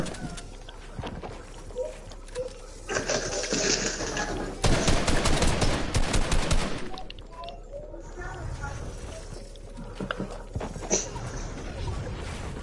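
Gunshots in Fortnite, a video game, come as a rapid burst of loud, close firing in the middle of the passage, with quieter shots and game sounds around it and voices talking over it.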